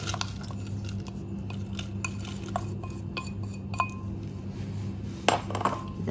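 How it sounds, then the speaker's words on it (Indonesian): A spoon stirs palm sugar and pandan leaf in water in a cooking pot, scraping and clinking against the metal in quick irregular strokes, close and fairly loud with no talking. "Kita aduk-aduk gini aja."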